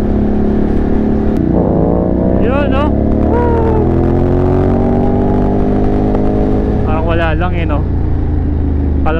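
A Ducati Monster 937 SP motorcycle engine idles and rumbles loudly and steadily up close at a race track, with people talking and exclaiming over it.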